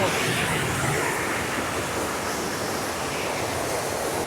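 Small waterfall on a hiking trail in Morocco, a dense, steady roar of falling water with wind buffeting the microphone, fairly loud and continuous throughout.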